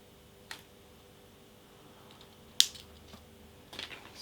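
Wire cutters snipping excess wire from a handmade wire macrame bracelet, a few sharp, close clicks spaced apart in quiet surroundings, the loudest snip midway through.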